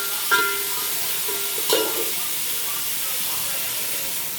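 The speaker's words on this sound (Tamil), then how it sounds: "வெங்காயம் வதக்கிட்டு தக்காளி போட்டுட்டோம். தக்காளி கொஞ்சம் வதங்கினா போதும்." Onions and tomatoes sautéing in a pan for home-style biryani, a steady soft sizzle and hiss with two sharp utensil knocks against the pan early on, close and without talk.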